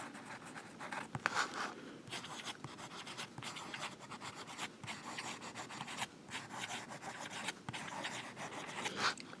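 A Parker fountain pen nib scratches across paper in quick, rhythmic strokes, soft and close, with short pauses between bursts of writing and no talking.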